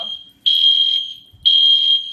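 A smoke alarm sounds two long, loud, shrill beeps separated by a short pause, close by, with no talking over them.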